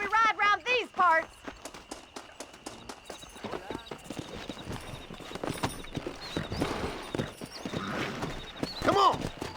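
Galloping horse hooves in the Red Dead Redemption video game, a rapid clip-clop rhythm running throughout with a whinny, under music and a voice talking.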